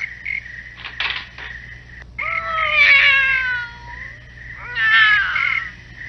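A cat meows several times, drawn-out and wavering, close by, with a steady high insect-like buzz in the background.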